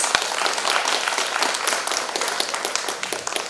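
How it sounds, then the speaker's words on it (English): An audience at the inauguration of the Odisha Art & Literature Festival gives a steady, dense round of applause for the dignitaries, many hands clapping together at an even level throughout. "May I request the audience to give a big round of applause for all our dignitaries."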